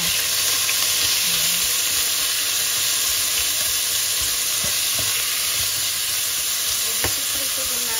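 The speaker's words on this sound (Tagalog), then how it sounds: "I-prito din natin ito para maging crunchy." Pork intestines frying in oil until crunchy, a dense continuous sizzle and crackle with occasional stirring clatter, close and steady the whole time with no speech.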